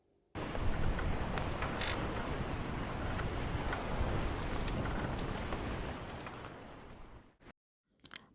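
A sailing yacht under way, a broad continuous rush of wind and water lasting several seconds before cutting off abruptly near the end.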